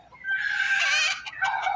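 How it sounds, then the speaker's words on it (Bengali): A native chicken on a farm deep in a Malaysian jungle lets out one drawn-out, fairly loud squawking call followed by a shorter cluck, close by with no talk. "দেখুন সবগুলো মুরগি চারা অবস্থায় থাকে"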